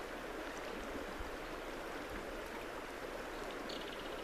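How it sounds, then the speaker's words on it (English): Steady, broadband rush of river water flowing around rocks, continuous and fairly even throughout, with no voices or other distinct sounds. "Just hear the water and let it take you to the quiet."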